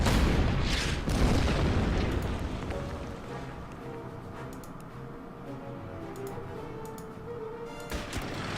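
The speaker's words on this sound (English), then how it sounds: "Start bombarding over there." Artillery bombardment in the wartime strategy game Order of Battle, desert sandstorm setting: a heavy, loud blast opens, fading into a long low rumble, with another boom starting near the end.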